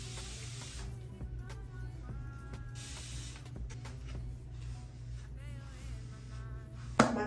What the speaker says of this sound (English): And I spray the hair where it's like wet enough